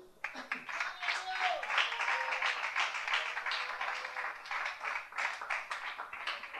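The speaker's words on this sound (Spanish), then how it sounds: "Aplaudan a Dios." A church congregation claps in praise during a sermon, a moderately loud, continuous patter of many hands with a rhythmic edge, while a voice sings or speaks over it.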